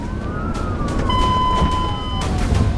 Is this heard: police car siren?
yes